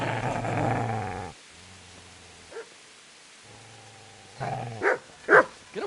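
A dog growls low and rumbling in Kingdom Come: Deliverance, a long close snarl followed by quieter rumbling stretches and sharper barking bursts toward the end.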